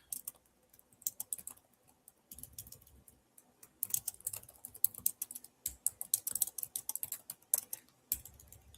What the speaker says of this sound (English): I'm going to type it here also